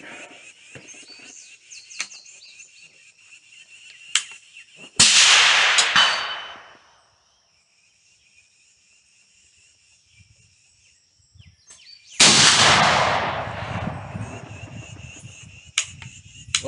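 A single-shot rifle chambered for the black powder .50-70 Government cartridge fires two loud, sharp shots several seconds apart outdoors, each blast ringing out with a long decaying rumble, amid chirping insects and birds.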